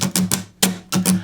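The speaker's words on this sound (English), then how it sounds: "Let's say we're playing a solid strumming pattern that sounds like this." Acoustic guitar strummed in a triple down strum pattern, bright percussive chord hits in groups of three with a short gap between groups, close and punchy, unaccompanied by voices.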